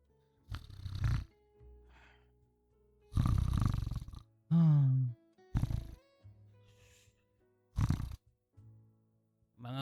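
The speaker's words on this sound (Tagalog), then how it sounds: "humihilik na" A person asleep on a sofa snores in slow, heavy bursts, each loud rasping inhale separated by quieter gaps, with a few brief higher-pitched sounds in between.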